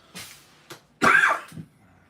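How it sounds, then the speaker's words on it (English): A person coughs several times indoors during a card game, short close bursts with one stronger harsh cough in the middle and no talking. "I've been having a coughing fit lately"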